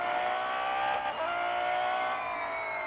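A Lamborghini Intensa Emozione in a racing video game screams at high revs around Laguna Seca, its engine note holding steady close up, with a brief dip and shift near the middle and no talking.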